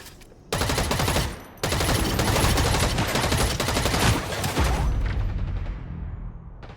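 Rapid automatic gunfire in the sci-fi shooter EVE Vanguard, loud dense bursts of rattling shots with a brief pause near the start, then a long sustained volley that tails off into a fading echo.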